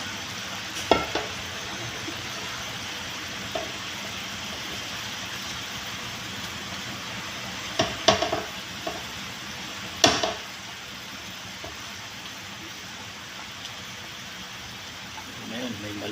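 Chicken tinola simmering in a pot as vegetables, malunggay and chili leaves are stirred in: a steady soft hiss of cooking with a few sharp utensil knocks against the pot.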